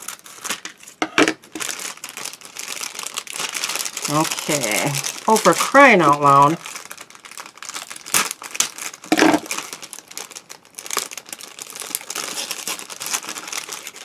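A package being opened, its plastic wrapping loudly crinkling and crumpling close by in irregular bursts, with someone talking and grumbling throughout.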